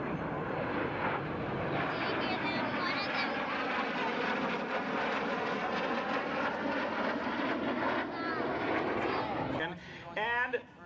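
Three North American jets pass over an air show, a loud continuous engine roar that fills the whole span and stays steady before dipping near the end, with a voice speaking over it.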